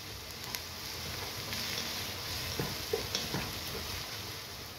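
Two medium onions sizzling in oil in a pan until light golden, a steady close frying hiss with a few soft stirring taps and pops, no talking.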